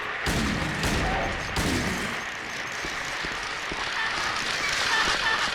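Gunfire at monsters in the Silent Hill 2 video game, two sharp loud shots near the start followed by lighter thuds and rumbling game ambience.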